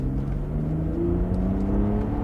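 BMW 130i E87 engine cruising at about 40 km/h, a steady low droning hum with a faint rising whine, continuous and close, no voices over it.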